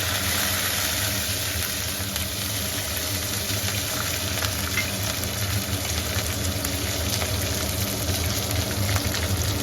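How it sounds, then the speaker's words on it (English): Jeera, cloves and ginger garlic paste frying in a pan, a steady dense sizzle running the whole time over a low background hum, with no voices. "Now she's frying it up."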